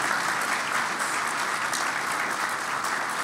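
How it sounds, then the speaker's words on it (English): A large conference audience at a justice-program grantee convening applauds, dense continuous clapping holding at an even, full level throughout. "Now you can applaud."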